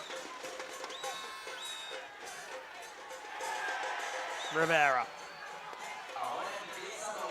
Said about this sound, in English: Cheer going up, appealing for a free kick in the Mexican stands.